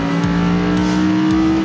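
A car engine roars close and loud as the car accelerates out of a corner, a strong, steady droning note with a few quick swooping pulses and no voices.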